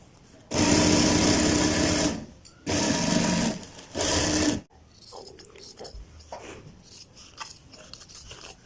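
A sewing machine stitches piping onto a garment placket or cuff in three loud whirring runs of about one to two seconds each, separated by short pauses, followed by quieter handling sounds.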